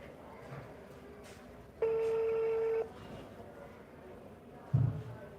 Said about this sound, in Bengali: আমি অটো প্রজেক্টে ফোন দিলাম